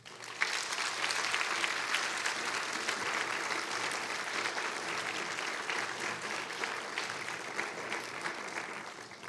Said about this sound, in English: Can we all now applaud this happy day?